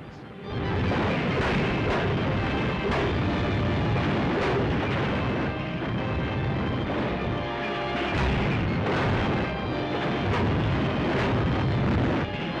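Artillery shells exploding over the burning city of Suchow in wartime China, a continuous dense roar of blasts and rumbling booms, loud and unbroken throughout, with faint narration under it.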